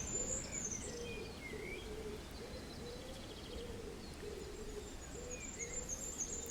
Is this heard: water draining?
no